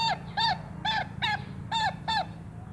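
Recorded watercock calls play as a lure for trapping, repeating in six loud, evenly spaced honking notes with short gaps between them and a low hum underneath.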